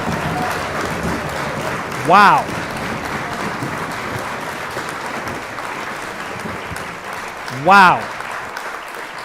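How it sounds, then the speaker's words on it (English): Applause from a crowd or audience runs continuously as a steady wash of clapping, with a voice twice breaking in over it. "Give those guys a round of applause."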